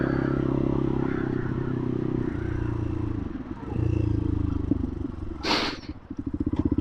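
A Bullit Hero 250 motorcycle being ridden, its engine a steady low drone that rises and falls with throttle, with clattering and a brief hiss of wind noise near the end.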